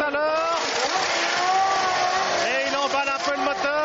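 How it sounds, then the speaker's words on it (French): A 1993 Formula 1 car at the Italian Grand Prix revs its engine in a continuous high, whining roar with shifting pitch, heard over race commentary. "Et il emballe un peu le moteur."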